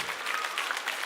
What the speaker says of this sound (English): If you can hear me, clap 5 times.